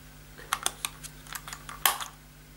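Battery cover snapping onto a Logitech G602 wireless mouse, a short cluster of small sharp plastic clicks and taps ending in one firmer click, close and quiet over faint hum.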